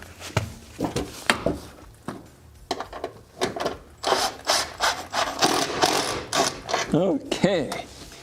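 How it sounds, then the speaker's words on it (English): A wrench working on the engine of a 1980s Nissan 200SX: irregular ratcheting clicks and scraping metal bursts, close up, with a few brief vocal sounds near the end. "Apparently I need to put a wrench on the top of it"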